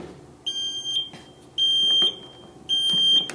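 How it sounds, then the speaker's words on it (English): Three loud, steady high-pitched electronic alarm beeps sound from a chair lift after its stop button is pressed. Each tone lasts about half a second, separated by short gaps, with faint clatter underneath. "You can also push the stop button, but then the alarm will go off."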